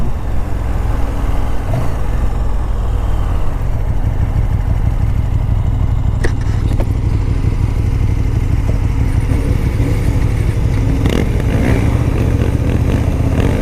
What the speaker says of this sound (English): this guy stalled the bike, I think 4 times or 5 times so far.